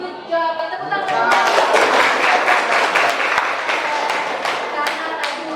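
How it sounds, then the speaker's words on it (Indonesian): Classroom applause from students after a pupil answers a question, a dense burst of clapping that starts after a brief pause and holds steady, loud and close, for several seconds. "Tepuk tangan."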